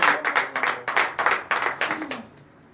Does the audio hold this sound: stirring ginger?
no